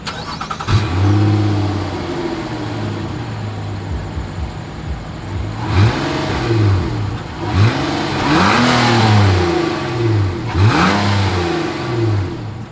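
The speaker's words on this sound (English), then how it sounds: "As always, here is that exhaust clip." A 2023 Nissan Murano SUV engine idles with a deep rumble from its dual exhaust, then revs repeatedly in short bursts, each rising and falling back to idle.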